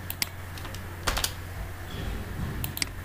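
Computer keyboard typing while writing LaTeX code: scattered clusters of quick, light key clicks at close range, separated by brief pauses, over a low steady hum.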